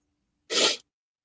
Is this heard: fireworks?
no